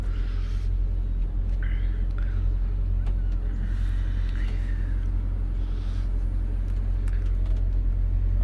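A pickup truck with about 154,000 miles, started cold after two weeks of sitting, idles with a steady, loud low engine rumble throughout. Faint higher sounds drift over it.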